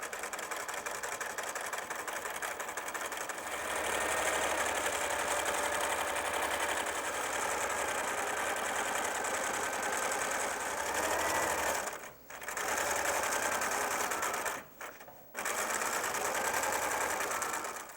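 A sewing machine stitches binding onto a quilt with a 1/4 inch seam, running as a steady close mechanical whir for most of the stretch, briefly stopping twice near the end.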